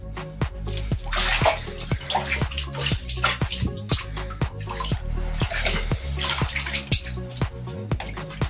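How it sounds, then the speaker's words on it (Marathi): Water from the Ganga-Jamuna spring at Asirgarh fort splashes and trickles steadily, with rapid, rhythmic drips and gushes heard up close. "समोर आहे तिथं बघू शकता गंगा जमुनाचा पाण्याचा झरा आहे"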